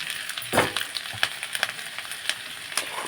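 Turmeric and other spices frying in a pan, a close, steady sizzle broken by crisp scraping stir strokes at an irregular pace.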